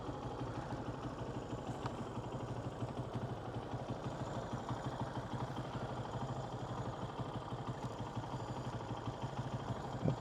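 An engine runs steadily throughout, a continuous low rumbling drone with a faint mechanical clatter and no pauses, fairly loud and close.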